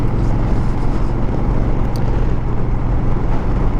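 A Honda Fury motorcycle rides through twisty roads, its engine a loud, steady low drone blended with heavy wind rush across the microphone, continuous and unbroken throughout.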